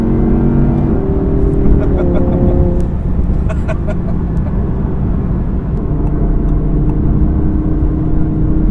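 A 2017 Audi R8 V10 Plus runs loud and close with a dense engine drone, its pitch stepping down through quick paddle-shift gear changes, alongside faint ticking and clicks.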